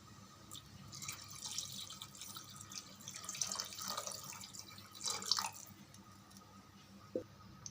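Water poured into a cooking mixture in a pot, with faint splashing and trickling and a few drips over several seconds, close and quiet, with no talk.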